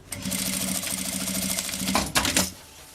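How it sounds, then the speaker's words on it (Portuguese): Sewing machine running a fast continuous stitch as a small strap end is sewn onto a women's backpack, close and loud, slowing and stopping near the end. "eu vou costurar essa pontinha, tá? Essa tirinha onde nós colocamos a meia argola"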